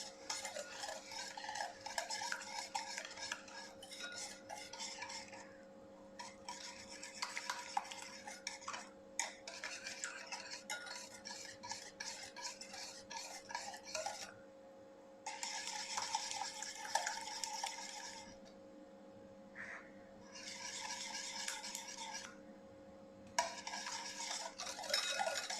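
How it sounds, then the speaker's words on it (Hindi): Eggs and sugar mixed gently by hand in a bowl for cake-style brownie batter, giving soft bursts of stirring and scraping that start and stop in uneven spells, quiet and close. "इन दोनों को बिल्कुल हल्के हाथ से आपने मिक्स करना है, इतना मिक्स करना है कि बस दोनों मिक्स हो जाएं"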